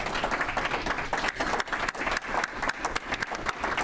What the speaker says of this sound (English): I would like all of the Paul Harris Fellows in our club to stand and be recognized and be applauded